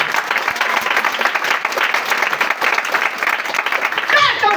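A church congregation applauds and claps in a steady, sustained wash of hand claps at a French-language worship service, with voices mixed in throughout.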